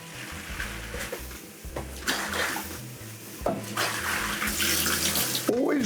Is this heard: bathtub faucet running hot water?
yes